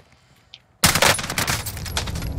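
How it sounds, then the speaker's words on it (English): A sudden, loud barrage of automatic gunfire in Call of Duty Warzone breaks a near-silent moment, with rapid shots rattling on close by. "They're shooting at me."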